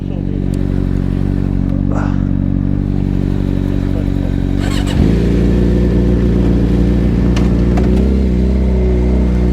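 A motorcycle engine rumbles loudly and continuously at a car wash, idling and revving with a clear pitch shift midway, while occasional clatter and light background noise mix in.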